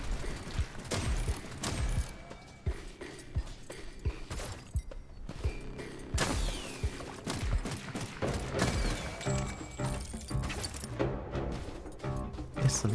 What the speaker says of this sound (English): I think I can shoot.